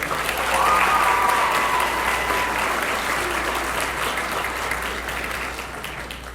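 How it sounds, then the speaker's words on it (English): A large audience at a school winter concert applauds, dense and sustained clapping that stays strong before slowly tapering off. "Give them one more round of applause for that one."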